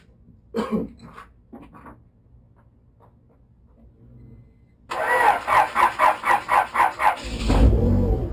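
A 1992 Honda engine cranks with a rapid series of rhythmic pulses, then catches and roars into a running idle; a few coughs and clicks come before it.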